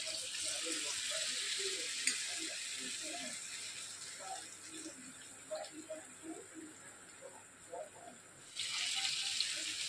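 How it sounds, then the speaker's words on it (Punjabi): Bread pakoras frying in hot oil over a low flame, a steady broad sizzle with scattered bubbling pops throughout, close and fairly loud, with a brief surge of hiss near the end. "ਹੁਣ ਆਪਾਂ ਪਕੌੜੇ ਪਾਤੇ ਤੇਲ 'ਚ"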